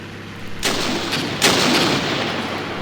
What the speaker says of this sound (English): Looks like some auto grenades possibly being fired there at the enemy.